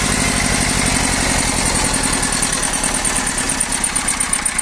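A two-cylinder diesel tractor engine, a 2Ch 8.5/11 with a T-25 fuel pump, idles steadily nearby with a rapid, uneven chugging pulse and a rattling mechanical clatter throughout.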